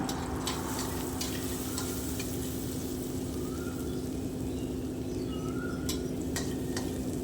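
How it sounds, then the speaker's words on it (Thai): Garlic and chillies stir-frying in a pan, a soft, steady sizzle with occasional light scrapes and ticks of a utensil, quiet and unbroken throughout with no voices. "นี่เราก็มาผัด กระเทียมกับพริกนะคะให้หอม"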